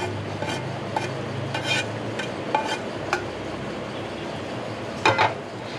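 Paneer pulao being stirred in a pan, with a low steady frying hiss and several short scraping strokes of a spoon against the pan, the strongest pair of scrapes near the end; no talking.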